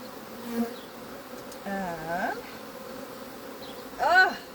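Honey bees turn angry during a hive split, filling the air with a steady close buzz while louder individual bees swoop past the microphone in rising and falling whines.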